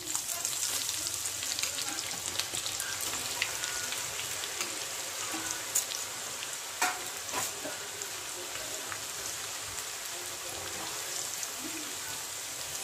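Onions fry for egg biryani, a quiet, even, rain-like sizzle that stays steady throughout, with a few faint ticks and knocks.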